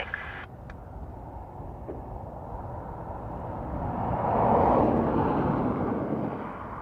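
An ATR turboprop arrives at Dublin Airport on a windy morning, heard as a broad, distant engine roar that swells gently toward the middle and then eases, with wind noise underneath.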